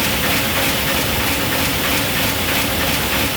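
Loud, steady mechanical roar of a large industrial printing press running at about 11,200 prints per hour, a dense continuous clatter and hiss with no pauses.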